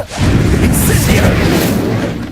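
An Incendio fire spell erupts in Hogwarts Legacy: a loud, close roaring blast that swells quickly and holds as a dense, booming rush of flame for a couple of seconds before easing slightly.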